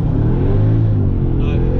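A Mercedes CLS55 AMG with a 500+ bhp engine held at high revs before a launch attempt, a loud close-up droning roar that holds steady and swells slightly toward the end.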